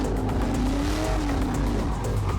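A car's tires squeal under too much throttle, a continuous loud engine roar with a wavering high-pitched screech running steadily through, close and unbroken.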